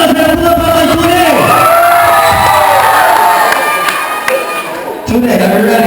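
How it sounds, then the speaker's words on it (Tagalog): A battle rap crowd roars, shouting and cheering loudly in a dense continuous swell of many voices, with a brief dip before the noise surges again. "sumigaw muna mga sa lapuan para kay Sune"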